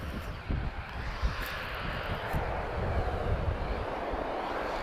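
An Airbus A330neo airliner takes off at Lisbon Airport, its engines giving a broad, steady jet roar at moderate distance, with a low rumble and light wind noise on the microphone and no talk.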